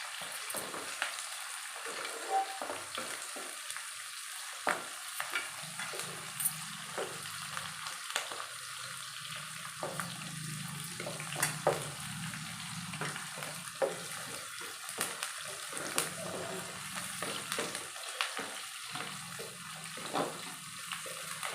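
Curry leaves sauté in hot oil in a pan for a fish curry, giving a steady, close frying sizzle with a watery hiss that runs throughout, with no talking.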